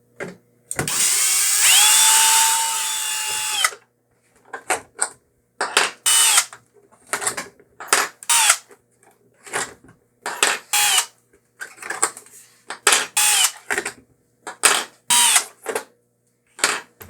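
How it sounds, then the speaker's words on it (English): A power screwdriver backs screws out of an Original Xbox console, with one long steady whirr followed by a series of short, loud, close bursts, each start-and-stop separated by brief pauses. "So here you want to remove these 6 screws."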